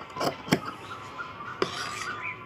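Scissors cut through chudidar top lining fabric in a few short, close rasping snips, spaced irregularly against a quiet background.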